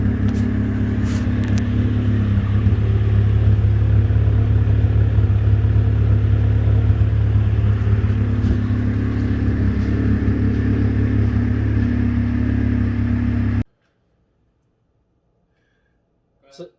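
A Saturn S-series car with a rear-mounted turbo setup on a test drive, its engine droning steadily and loud from inside the cabin before cutting abruptly to near silence.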